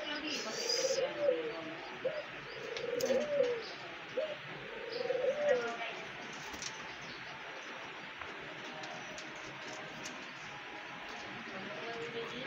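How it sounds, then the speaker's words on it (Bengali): A pair of Bazigar pigeons coo in soft, repeated rounds during the first half, joined by light chirps against a quiet indoor background, with a person speaking faintly. "এই যে দেখুন বাজিকর পাখি এক জোড়া আছে"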